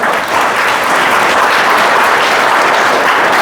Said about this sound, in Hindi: तालियों की गड़गड़ाहट के साथ